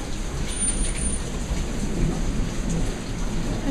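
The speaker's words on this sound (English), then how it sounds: "It's storming up here." A thunderstorm with steady heavy rain hissing on surfaces and low rolling thunder rumbling underneath, continuous and close, with no voices.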